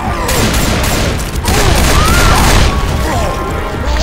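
Loud, dense rapid gunfire from Left 4 Dead 2, continuous fusillade with booms and crashes, heavy low rumble throughout.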